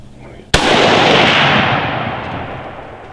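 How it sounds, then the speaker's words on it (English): A single loud shotgun blast rings out during a spring turkey hunt, a sharp crack followed by a long rolling echo that fades over about three seconds in open country. "Go ahead and shoot him."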